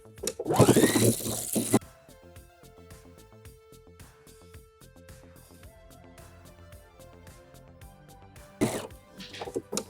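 Sewing machine stitching the seam of wide-leg pants, running in a quick mechanical chatter of needle strokes, with louder whirring bursts at the start and near the end and a faint hum in between.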